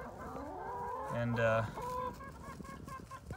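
Chickens cluck softly over a quiet background, with a brief louder squawk midway and a single spoken word.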